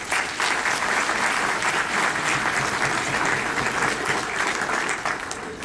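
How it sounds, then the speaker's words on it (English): An audience at a university lecture and honor society induction gives a sustained round of applause, full and even for several seconds before easing slightly at the end, with no voices over it. "So everyone, round of applause for those guys."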